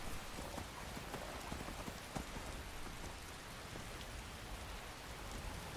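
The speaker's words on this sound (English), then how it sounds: "Thunderstorm begins to let up." Steady hiss of heavy rain pouring across open plains during a thunderstorm in the video game Skyrim, a dense, even wash of falling drops with no voices.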